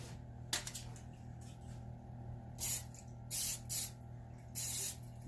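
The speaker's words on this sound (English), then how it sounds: "I'm going to spray the pan." Short bursts of cooking spray hiss onto a baking pan being greased for brownies, three or four close, separate puffs against a quiet kitchen background.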